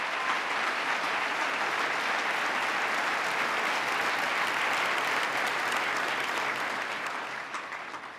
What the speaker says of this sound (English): Give Akeem a big round of applause